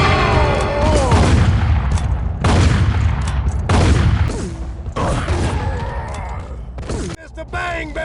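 Repeated heavy gunfire bursts from a Volcanic Repeater pistol in the 2004 Western shooter game Dead Man's Hand, several loud booming shots with ringing decay, separated by short gaps.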